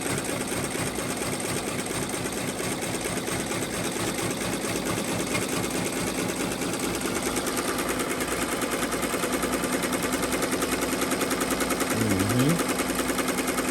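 A compact 15-needle embroidery machine stitches out a design at high speed, a loud, fast, steady mechanical chatter that runs without a break, with a brief tonal squeak near the end.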